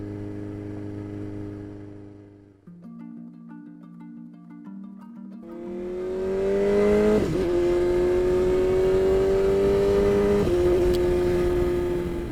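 A 2020 BMW S1000RR sport motorcycle accelerating at speed, its engine note climbing steadily from a low idle hum into a loud, sustained high-revving scream with brief shifts in pitch, heard on its own with no talk.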